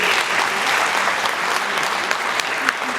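An audience at a women's day celebration gives a loud, sustained round of applause, dense clapping filling the whole stretch with a few sharper claps standing out near the end.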